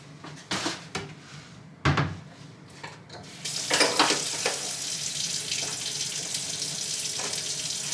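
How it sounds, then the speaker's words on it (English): Water poured onto soil in a seed-starting tray for hot peppers, following a few sharp knocks and handling clatter, then a steady close splashing trickle that runs to the end. "I'm going to go ahead and water this one more time, just to get the top layer that I just added wet"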